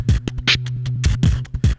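Loop station beat scattering effect, first variation: a looped beat chopped into choppy stuttering fragments, with repeated kick-like thumps, a short bright noisy burst and clipped gaps across a brief close, loud phrase.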